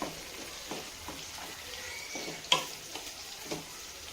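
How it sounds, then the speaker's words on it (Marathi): Sliced onion sautés in a pan with a soft, steady sizzle, a few light clicks and stirring taps rising above it, no talk. "आपण कांदा परतून घ्यायचा आहे"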